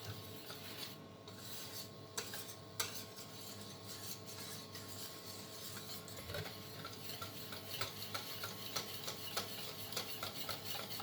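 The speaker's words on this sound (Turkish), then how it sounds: "Şimdi güzelce karıştıra karıştıra Bakliyemizi pişiriyoruz." A spoon stirs chocolate pudding (supangle) cooking in a pot with six glasses of milk, making a soft, steady scraping and rubbing that runs continuously and quietly, with no talk.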